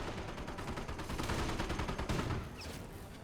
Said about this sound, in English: Bren carrier, I think, found a landmine and the Warfman half track barrage.